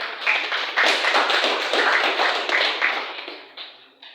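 Classroom audience applauding after a group's high school biology presentation, a steady dense burst of many hands clapping close by that holds for about four seconds and then tapers off.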